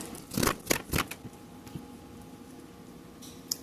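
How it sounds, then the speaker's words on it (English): A knife chops big chunks of food on a board for a green-themed cooking dish, with several sharp close chops in quick succession early on, then a couple of lighter taps. "since I have some big chunks, I'm going to chop this up"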